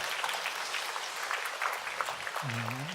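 Church congregation applause, a dense crowd of hands clapping steadily for a few seconds before a voice begins to speak.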